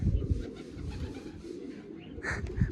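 A domestic pigeon coos softly at close range, low throaty murmurs against faint background noise, brief and unaccompanied by speech.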